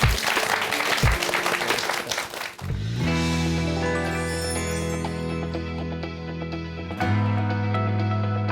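Audience applause at a live talk on speaking style, a dense clatter of clapping for the first few seconds that fades and gives way to sustained tonal music swelling to the end.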